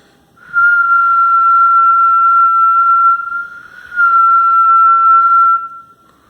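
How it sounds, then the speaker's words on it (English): A hand-blown whistle gives two long, loud, steady tones separated by a short dip, clear and alone with no voices. "I'm going to blow my whistle again."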